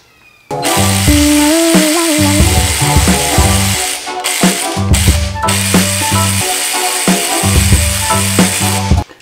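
A loud, close power tool buzzes and rattles continuously, with a brief pause partway through before resuming, like an impact driver loosening the rocker arms on an LS V8 engine.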